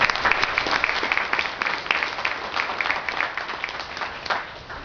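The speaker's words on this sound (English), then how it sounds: "so let's give them another round of applause" A crowd at a law enforcement appreciation event gives a sustained round of applause, dense close clapping that holds steady and slowly tapers over several seconds.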